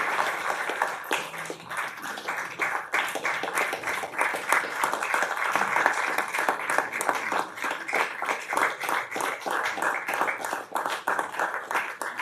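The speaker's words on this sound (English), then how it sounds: "let's give a round of applause for Commissioner Alvin Mason" Sustained applause at a city commission meeting, many hands clapping in a dense, steady patter that holds for about twelve seconds. A faint voice shows briefly under the clapping.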